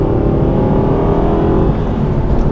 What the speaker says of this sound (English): Revs chase up quicker with the lightened flywheel